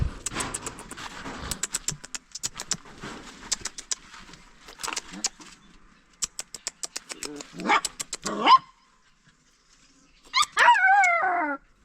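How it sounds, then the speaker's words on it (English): A puppy barks repeatedly in quick bursts, with whimpering and whining yelps between them, close by and loud, while people talk at moments in the background. "the puppy is here."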